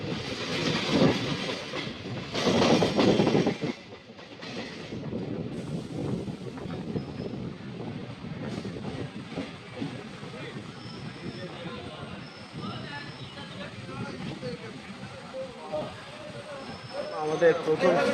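A Howrah–Medinipur local train rolls out of Howrah station, its wheels clattering rhythmically on the rails with wind rushing past the microphone, heard from on board with faint voices at times.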